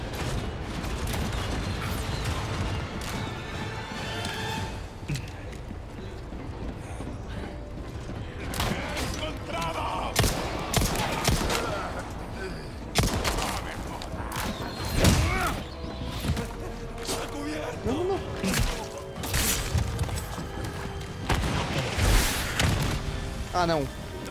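Sharp bursts of Resident Evil 4 Remake gunfire crack and thump in irregular volleys, mixed with mechanical clanks and a voice talking underneath.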